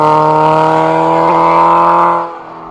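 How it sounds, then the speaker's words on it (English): A loud motorbike engine drones steadily nearby with a strong buzzing tone, then fades quickly as the motorbike passes and moves away. "And some rather loud, noisy motorbikes."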